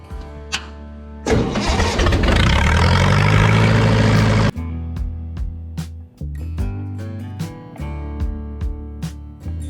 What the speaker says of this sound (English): It's got a 4-cylinder gas Continental engine, and while it may be old, these are still very common pipeliner rigs.